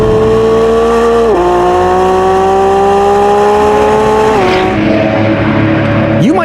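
A Lamborghini Revuelto V12 supercar roars loud and close, its engine pitch dropping sharply twice at gear changes before climbing again at the end.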